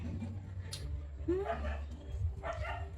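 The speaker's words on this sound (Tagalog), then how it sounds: "yung mga aso tumatahol na naman" Dogs bark twice in the background, with a couple of sharp, somewhat distant yelps rising over a steady low hum and faint household noise.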